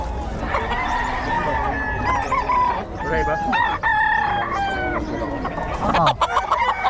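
Several roosters crow loudly over steady clucking from a flock of chickens, with voices talking nearby throughout.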